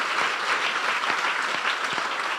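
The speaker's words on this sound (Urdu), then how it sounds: "یسوع کے لیے زوردار تالیاں بجائیں گے." A congregation applauds loudly in an apostolic church during an Urdu-language sermon, a thick, even roar of many hands clapping without pause.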